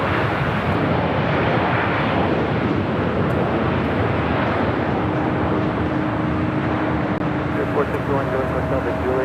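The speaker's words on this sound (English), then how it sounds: "There's Spirit Airlines Flight 461 coming in from Houston, and then A320." A Spirit Airlines A320 landing at LAX from Houston, its steady jet roar filling the air while a voice talks over it and a tonal engine whine rises near the end.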